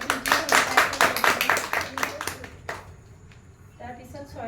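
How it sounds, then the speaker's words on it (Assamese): An audience at a Bihu dance event in Assam claps in a short burst of loud, dense applause that thins out and fades after a couple of seconds, with a voice returning at the end. "সকলোৱে হাত চাপৰি"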